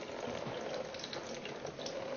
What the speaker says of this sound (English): this is called a water knot. And if you can see, those 2 streams have merged into 1